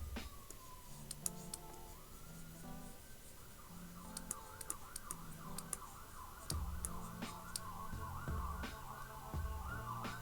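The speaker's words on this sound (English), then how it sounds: "I really appreciate the freaking blaring sirens going on in the background" Sirens wail and yelp in the distance outside, rising and falling repeatedly over a low background hum.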